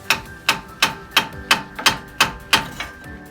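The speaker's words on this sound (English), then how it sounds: "Little love with the hammer." About ten sharp hammer blows on metal while installing a Jeep ball joint, evenly spaced in a quick steady rhythm, each ringing briefly before the next strike.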